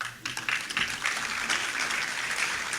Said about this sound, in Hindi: इसलिए मेरे अंत से पहले ताली बजा लो।